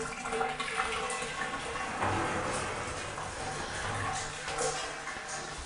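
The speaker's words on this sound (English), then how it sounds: "that's a pretty good flow from the shower head" Strong stream of water pouring from a hotel shower head, a steady, full hiss that runs without pause, close and fairly loud.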